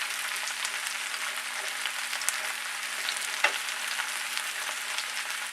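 Wild mushrooms stir-fry in a skillet, a steady close sizzle with a soft bright hiss throughout and an occasional faint scrape or tick from stirring, no voices.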